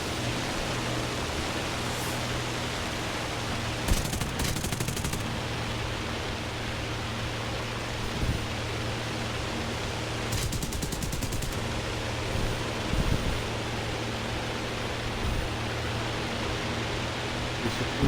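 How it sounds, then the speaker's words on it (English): American aircraft machine guns in War Thunder, heard as a couple of short rattling bursts over a constant droning engine hum that runs throughout, fairly quiet and without talk. "And there's my guns going."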